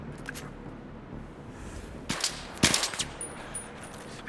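A Battlefield 3 sniper rifle fires in a sharp, loud crack, with a couple of other metallic impacts and clanks nearby against a quiet background; no one speaks.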